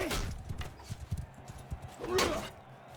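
Horse hooves clatter in Mount & Blade 2: Bannerlord during a tournament fight, a quick uneven run of close clip-clops with scattered impacts and a brief swell of noise, under faint game sounds.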